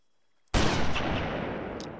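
A single SRS sniper rifle shot fired in a video game cracks loudly after half a second of silence, then rolls into a long, decaying boom that fills the rest of the moment.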